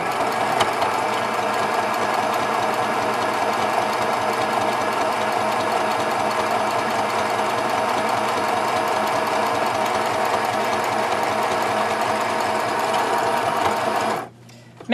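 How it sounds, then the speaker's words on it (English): A sewing machine stitches fabric with a fast, steady mechanical hum and rapid needle chatter that runs continuously and loudly, then stops abruptly near the end. "we're going to stitch it just like we did before"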